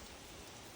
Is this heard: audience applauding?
no